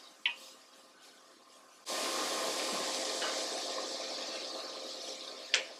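Vegetables with salt cooking down in a gumbo pot for chicken and sausage filé gumbo, a steady broadband sizzle that starts abruptly and holds close and even for several seconds, with a couple of brief clinks at the start and end.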